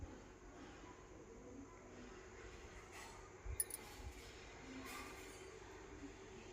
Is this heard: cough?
no